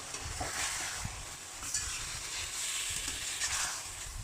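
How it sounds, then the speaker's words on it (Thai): Long eggplant stir-fried in a pan gives a continuous soft sizzle with repeated scraping and stirring, close and moderately quiet. "แล้วก็ผัดคุก ๆเราจะใช้เวลาในการผัดไม่นานแล้วนะ"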